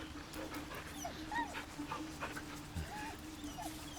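A dog in the video game Baldur's Gate 3 whimpering and panting, with soft high whines rising and falling over a steady game background, close but quiet.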